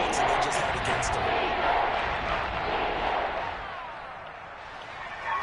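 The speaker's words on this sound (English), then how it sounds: "Here comes a big one as this crowd gets up making some noise." Stadium crowd noise in the football video game Madden 23 rises into a broad roar on a third-and-short play, staying loud before easing somewhat toward the end.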